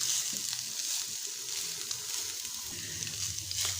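Spices for a chicken bread recipe sizzle as they fry in a pan, a steady hiss with soft scrapes of stirring running throughout at close range.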